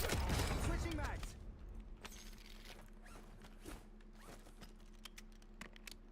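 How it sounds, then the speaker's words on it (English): A weapon magazine swapped during a Call of Duty Blackout match, heard as a burst of close mechanical clatter at the start, followed by faint clicks and scattered distant game sounds with a voice speaking. "Switching mags."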